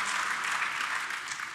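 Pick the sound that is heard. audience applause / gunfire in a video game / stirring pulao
audience applause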